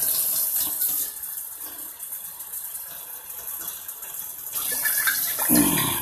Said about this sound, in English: I'm gonna add a little water to finish off this steak